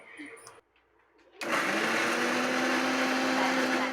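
A mixer grinder whirs loudly while grinding spicy chutney, starting abruptly after a brief quiet moment with a short voice at the start, then running as a steady, close, high-pitched motor whine.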